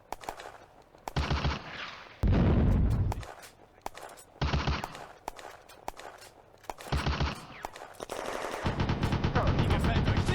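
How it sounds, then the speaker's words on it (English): Gunfire from an infantry squad in the war game Firefight: bursts of machine-gun and rifle fire with heavy impacts, some close and loud, others further off, with a voice talking in between. "Lieutenant Peterson's infantry squad has located and is firing on a Soviet anti-tank rifle squad"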